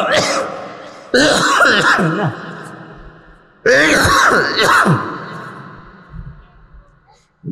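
Repeated coughing and throat clearing from a man irritated by dust, with allergies, during an outdoor Islamic sermon; two loud bursts of harsh coughs, each a cluster of rapid hacks, with quieter breathing between.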